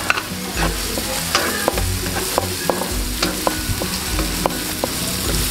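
Onion, and then garlic, sauté in a hot pan, a steady close sizzle broken by frequent scraping and tapping strokes of a spatula as the pieces are stirred, with no talking.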